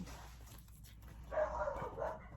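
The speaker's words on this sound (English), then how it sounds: "Here are the dogs." Several dogs barking at mid distance in a household setting, a burst of barks and yips in the second half after a quieter stretch, moderately loud over faint background noise.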